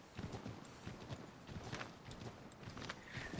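Steady clip-clopping of horse hooves from Assassin's Creed 3 Remastered, a close, even rhythm of hoofbeats running throughout with faint ambient game sounds behind.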